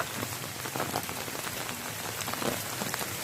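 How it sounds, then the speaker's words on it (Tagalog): Steady rain patters on a surface during flooding in Barangay Payatas, Quezon City, a constant hiss with scattered drops, no voices. "Umalis tayong umuulan, uwi din tayong uulan pa rin"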